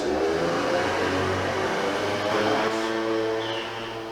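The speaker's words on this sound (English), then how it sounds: "it doesn't matter where I am, there's always stupid noises from stupid vehicles" Vehicles pass outside with a loud, whirring engine drone that holds steady, then eases off slightly toward the end, with no talking.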